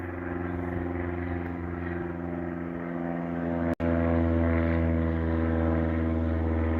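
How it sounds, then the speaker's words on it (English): Small propeller airplane droning overhead at a winter homestead, a steady, fairly loud engine hum with strong low harmonics that holds unbroken except for one brief sharp click. "And there's an airplane right up in here."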